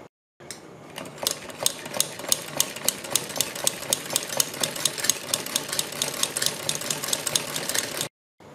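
A sewing machine runs steadily, stitching down the folded edges of a cut neck design, with a rapid, even mechanical clatter of needle strokes that holds for several seconds close up before stopping abruptly.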